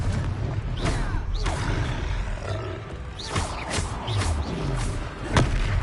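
A Confringo blasting spell goes off during a boss fight in Hogwarts Legacy, heard as several booming, roaring impacts and thuds over a dense, loud backdrop of game effects with a growling creature.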